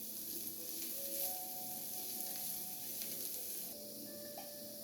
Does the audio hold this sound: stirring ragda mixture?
yes